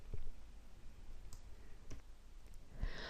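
Computer mouse clicking at a desk: a few faint, sparse clicks spread over a few seconds against a low steady room hum.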